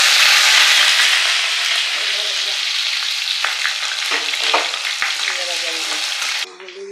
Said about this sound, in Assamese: মাছটো নামাই দি দিছে এতিয়া নহৰু দি দিছে তেজপাত দি দিছে